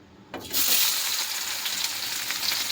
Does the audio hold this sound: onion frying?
yes